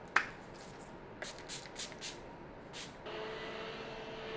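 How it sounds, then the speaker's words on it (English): A makeup setting spray bottle gives several short, quiet pumped hisses in a quick series, followed by a softer sustained spritz, faint and close with no talking. "I'm gonna go in with my second spray."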